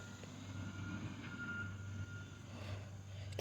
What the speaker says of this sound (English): The garbage truck is now backing up.